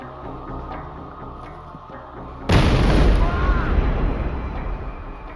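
A dramatized bomb blast bursts in suddenly after quiet, a loud broadband boom that rumbles and slowly decays over several seconds.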